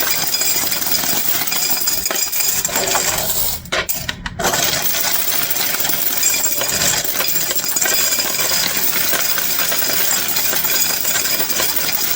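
Quarters dropping in a rapid continuous jangle through the coin mechanism of a laundromat machine, loud and close, with a brief dip before the metallic rattling resumes, no voices.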